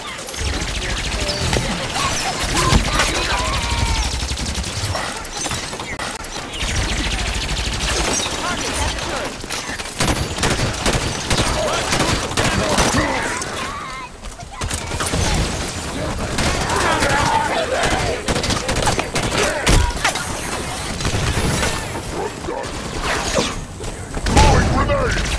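Turret gunfire rattles in Halo 5: Guardians as a dense, continuous barrage of loud rapid shots and impacts mixed with explosions and clatter, with shouted voices over the combat.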